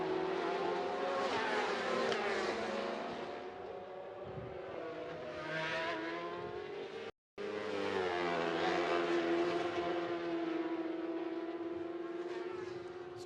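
Racing motorcycles at the Macau Grand Prix scream past the finish line, near and loud, their high engine whine rising and falling as they pass, with a brief cut in the middle before another bike roars through.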